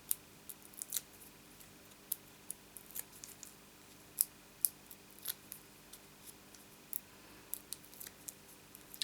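Scissors snip repeatedly through cardstock, cutting a piece in half for a handmade card; the crisp, close snips come at an irregular pace over a quiet background.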